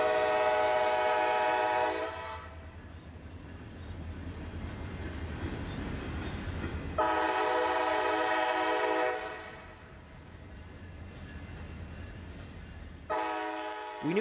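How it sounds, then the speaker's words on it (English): A train with three boxcars crawls past in Central Florida, sounding three long horn blasts over a steady low rumble of rolling wheels, fairly close and loud. "making for a beautiful scene as the train crawls towards the sunset"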